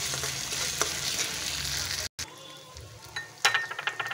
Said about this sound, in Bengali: আদা রসুন থেতো করে। এটা নেড়ে চেড়ে দিয়ে দেবো টমেটো।